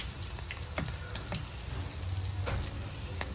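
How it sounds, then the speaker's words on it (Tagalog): Okoy, vegetable fritters of bean sprouts, carrots and cabbage, sizzle and crackle steadily in hot oil, with occasional louder pops and faint stirring, close and continuous. "Piniprito-prito ko na siya."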